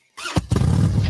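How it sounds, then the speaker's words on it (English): An AKT motorcycle engine from a radio advert revs up suddenly after a moment of silence, then holds a loud, steady, rough roar on its own. "This summer, go outside with a brand new AKT motorcycle."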